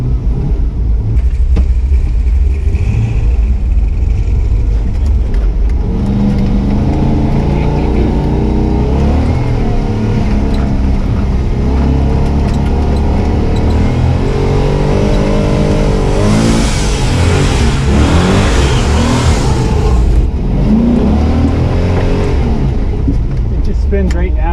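An off-road vehicle revving hard as its wheels spin in soft snow over unfrozen sand, a loud, close, sustained engine roar with surging pitch and bursts of spray, with people talking over it.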